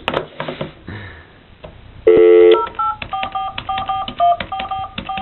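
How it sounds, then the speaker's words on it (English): A Freedom Phone keypad dials an office number: a few handling clicks and a loud tone, then a quick run of short, evenly spaced beeping dialing tones, close and clear. "In this case, we'll dial our office number."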